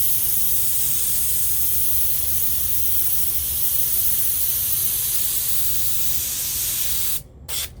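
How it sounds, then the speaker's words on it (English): An airbrush sprays paint onto a roller skate in a continuous close, loud, even hiss that holds for about seven seconds before cutting off with a couple of short final bursts. "just kind of go around the outside of this to create like a overspray barrier."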